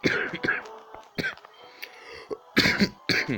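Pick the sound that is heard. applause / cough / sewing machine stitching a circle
cough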